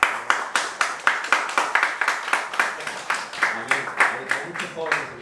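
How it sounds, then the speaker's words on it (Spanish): Rhythmic congregation clapping in a church, a Spanish-speaking gathering with many young people, beating in unison at a lively, even pulse close by, with voices faintly mixed underneath. "Un aplauso para el Señor."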